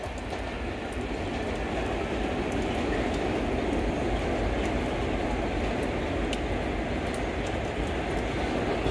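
An M7 electric multiple unit train rolls past close by on a main line, a loud continuous roar of wheels on rail with faint clicking joints and no break in the sound.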